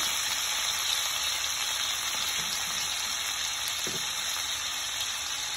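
Cumin seeds sizzle in hot oil with a dense, steady hiss and faint crackle, close and even throughout, with no talking.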